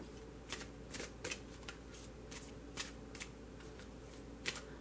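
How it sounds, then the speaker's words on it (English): A deck of tarot cards being shuffled by hand, giving close, crisp riffling bursts in an irregular rhythm over a quiet room hum, with no talking. "I'm just shuffling this next deck for you"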